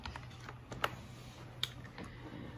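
A few faint, sparse keystrokes sound on a computer keyboard as a search term is typed, with a quiet room hum beneath and no talking.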